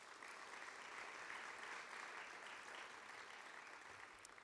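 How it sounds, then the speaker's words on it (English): An audience at a college president's convocation gives a sustained round of applause, a dense, even wash of clapping that stays steady from start to finish, heard from a distance. "Can we have another round of applause, please?"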